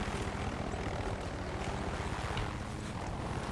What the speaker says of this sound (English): Oh, it's just a random helicopter here.